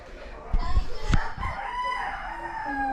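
A rooster crows nearby in a single loud call, with some background voices and clucking around it.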